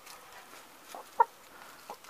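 A hen in a coop gives a few soft, scattered clucks, one brief sharper cluck standing out midway, heard faintly against a quiet background.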